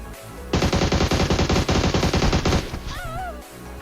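Rapid automatic gunfire from a shooter video game, a dense burst of shots lasting about two seconds as an enemy is knocked down, followed by brief warbling electronic game tones.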